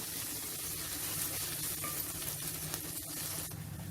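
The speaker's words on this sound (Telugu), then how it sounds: "ఇప్పుడు మనం ఈ ఉల్లి వెల్లుల్లి పేస్ట్ ఇది ఇందులో వేసేసుకుందాము. ఇది పచ్చివాసన పోయే వరకు వేయించుకోవాలి." Onion-garlic paste fries in a clay pot for a fish curry, giving a steady, even sizzle with soft stirring scrapes throughout, close and continuous, no voices.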